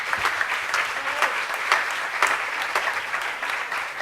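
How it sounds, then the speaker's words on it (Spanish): An audience applauds presidential candidate Zury Ríos of the VIVA party, with a steady wash of clapping from a sizeable crowd that keeps an even level for several seconds, with a few sharper claps standing out. "Les pido otro fuerte aplauso más para la candidata de Viva Zuri Ríos"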